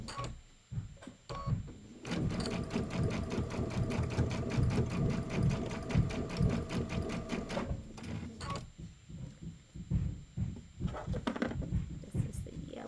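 Sewing machine running steadily while quilting fabric filler blocks for a Kimberbell Shout Hooray quilt, a fast even needle rhythm lasting several seconds, bracketed by brief handling noises and a quieter stretch of stitching at the end.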